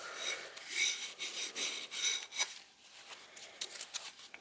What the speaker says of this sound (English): we're just wiping off anything that's on the surface now.